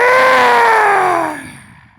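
A person lets out a long, loud roar in imitation of a tiger during a qigong breathing exercise outdoors in a field, the voice holding strong then falling away over about two seconds.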